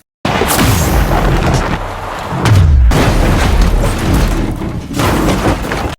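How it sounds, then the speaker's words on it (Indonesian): Film action sequence in which a car is shot at and overturns: loud booming impacts and bursts with a heavy low crash partway through, dense and close, no talk over it. "Ia pun langsung menembak mobil Philip hingga terguling."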